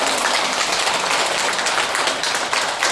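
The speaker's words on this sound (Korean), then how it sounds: "옆에 있는 분들한테 격려의 박수 좀 쳐줘요." A congregation at a Buddhist dharma service claps in encouragement, a loud, dense wash of applause filling the hall for a few seconds without pause.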